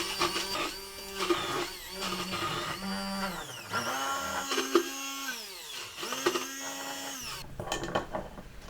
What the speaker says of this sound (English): Blend it all up into a paste.